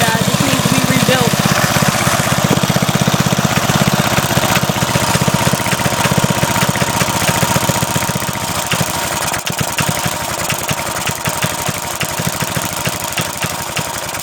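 An old 1990 Briggs & Stratton edger engine runs with a small single-cylinder putter, loud and close and steady throughout, with a voice talking over it.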